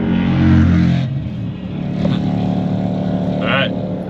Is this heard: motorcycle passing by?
yes